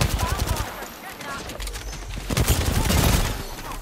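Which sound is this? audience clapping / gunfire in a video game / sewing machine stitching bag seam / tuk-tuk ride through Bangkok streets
gunfire in a video game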